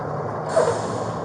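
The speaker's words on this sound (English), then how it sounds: "That truck's going to be really loud." A nearby truck lets out a sudden sharp air-brake hiss that lingers as a steady breathy rush over low background rumble.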